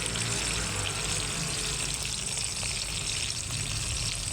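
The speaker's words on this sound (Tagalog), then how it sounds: "Daing naman ng susunod kong pipirituhin." Daing, dried fish, frying in hot oil, a loud, dense, steady hiss and crackle held close with no breaks and no talking.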